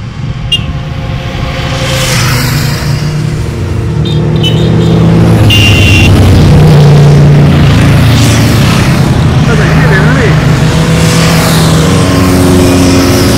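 Vehicles roll in and pass close by at a motor day event, engines rumbling louder then fading, with revving and a steady background drone.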